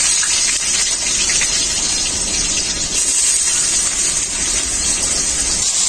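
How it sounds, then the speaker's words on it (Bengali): Potatoes fry in hot mustard oil in a wok, giving a loud, steady, close-up hiss that surges slightly now and then, with no talking. "আলু ভাজার জন্য কড়াইতে সরষের তেল দিয়ে দিচ্ছি।"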